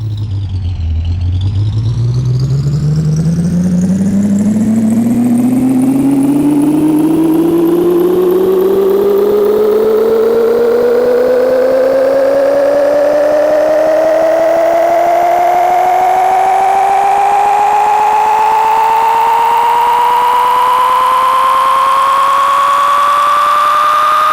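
A truck engine in the Big Rigs: Over the Road Racing PC game revving in reverse, a loud, continuous synthetic drone whose pitch climbs steadily and smoothly for over twenty seconds without a break.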